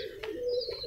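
Teddy pigeons in a loft with breeder pairs: a brief soft coo, close and fairly quiet, with a faint chirp at the start.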